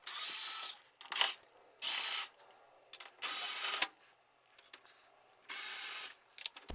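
A power screwdriver undoes the screws on the back of a Hotpoint or Indesit tumble dryer's side panel: four separate whirring bursts, each about a second long, with small clicks and rattles between them.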